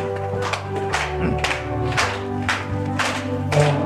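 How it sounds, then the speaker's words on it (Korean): A church congregation claps in a steady beat, roughly two claps per second, along with a hymn sung to instrumental accompaniment during a Korean worship service. "박수 치시면서 한번 부르십시다."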